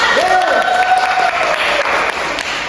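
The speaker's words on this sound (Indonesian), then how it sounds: "Tepuk tangan semuanya" A class of elementary school children claps together during a teaching practice lesson, dense clapping under a teacher's voice calling out over it.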